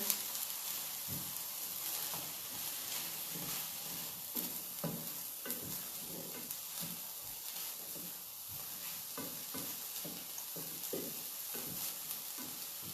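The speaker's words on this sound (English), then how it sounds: "just stir fry for several seconds to mix very well." Ingredients stir fried in a hot pan, a continuous soft sizzle with repeated scraping and tossing strokes of the utensil, close but fairly quiet throughout.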